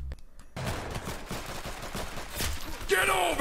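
Rapid gunfire from the golden gun in the Roblox game Arsenal, a dense burst of shots over game noise with a bright ringing tail near the end.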